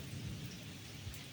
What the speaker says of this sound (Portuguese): Olha o trovão.